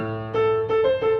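Piano playing a repeat of a song in an easy arrangement: a few sustained chords and notes struck in a steady, unhurried rhythm, close and clear with no voices.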